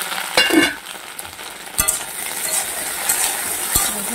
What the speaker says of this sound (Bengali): হালকা করে আমি ঢেঁড়সটাকেও ভেজে নিচ্ছি।